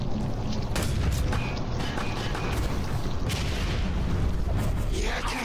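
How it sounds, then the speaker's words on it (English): Gunfire aimed at the player in the video game Quake 4, several booming shots and blasts over a dense, loud background of game noise, with a voice talking at times. "Someone's shooting at me."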